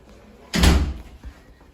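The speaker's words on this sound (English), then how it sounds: "Let me close the door." A cupboard door in a resort room shuts with one solid thud, followed by a faint knock a moment later, with no talk over it.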